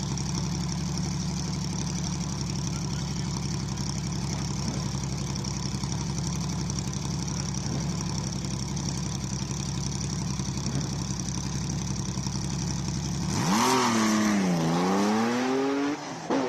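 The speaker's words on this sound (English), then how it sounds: "Next, another 911 air-cooled Porsche attacks the Speed Classic Cape Town." An air-cooled Porsche 911 attacks the Speed Classic hill climb in Cape Town: a steady background drone gives way near the end to a loud engine note that sweeps up and down as the car storms past. No one speaks.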